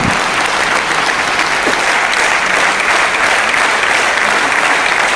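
Loud, sustained applause from a large seminar audience greeting an award-winning achiever onto the stage, thick, continuous clapping with no break from start to finish.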